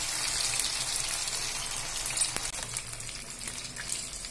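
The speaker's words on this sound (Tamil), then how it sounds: "நமக்கு மீனை நல்லா ஃப்ரை ஆயிச்சுங்க" Pomfret fish fries in hot oil with a steady, close sizzle and fine crackling spatter, bright and continuous with small popping bursts throughout.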